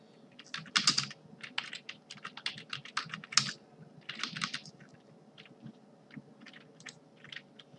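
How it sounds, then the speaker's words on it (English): Keystrokes on a computer keyboard while coding PHP, coming in quick irregular bursts of clicks with short pauses between runs, close and fairly quiet. "so here I'm typing N"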